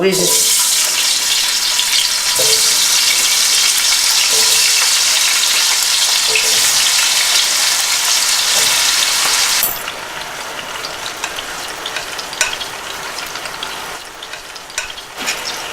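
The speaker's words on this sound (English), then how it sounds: "Okay, now we're getting ready to start cooking the potatoes. We're gonna use olive oil. Now I'm putting some potatoes." Sliced potatoes frying in olive oil for a Spanish tortilla de patatas give a loud, steady sizzle that carries on without a break, then drops to a softer, quieter crackle for the last few seconds.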